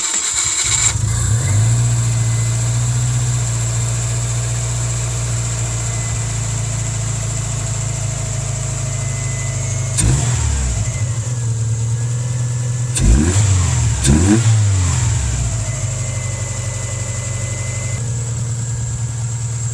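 A Mitsubishi Eclipse GSX engine with its check engine light on idles steadily and loudly, then is blipped in a few short revs that rise and fall before settling back to idle.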